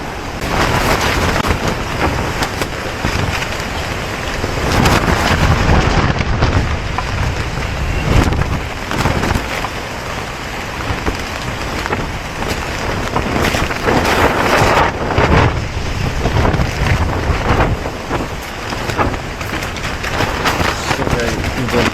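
At night, a strong gale drives rain against a camping tent, a loud, constant roaring rush that swells and buffets the fabric close to the microphone without letting up.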